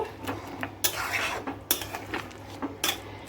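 A spoon scrapes and clatters against a pan while potato, pointed gourd and fish-roe fritter curry is mixed with garam masala and chopped coriander, giving irregular metallic knocks and scraping strokes over a quiet sizzle.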